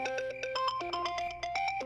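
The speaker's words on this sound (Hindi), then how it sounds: "सिजावल साहब का फोन आ गया।" A phone ringtone announces an incoming call outside a restaurant, a bright electronic melody of quick repeated tonal notes in a steady pattern, clear and close, with no voices.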